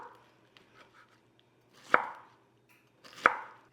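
A knife chops pineapple pieces sharply twice against a cutting board, about a second apart, with faint light tapping and handling noises before them.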